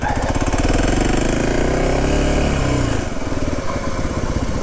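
A motorcycle engine runs loud and close as the throttle is worked, a steady thrumming drone that drops in level around the three-second mark and then carries on pulsing rhythmically.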